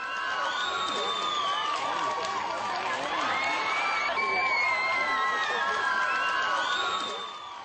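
At a film premiere, a crowd gives an ovation, a dense, sustained wall of cheering, whooping and shouting that swells and holds, heard from among the gathered people.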